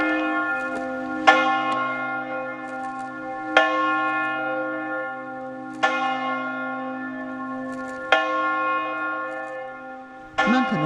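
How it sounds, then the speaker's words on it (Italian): A church bell tolls slowly and resonantly, five strikes roughly two seconds apart, each ringing out and fading into the next. "nel silenzio rotto dal suono delle campane"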